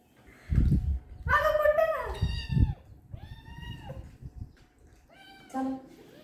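A black cat meows repeatedly, close and clear, several rising and falling calls with short pauses between them, while people talk nearby.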